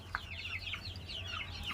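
Native village chickens cluck in short, repeated calls over a low steady background hum, close by and moderately loud with no one talking.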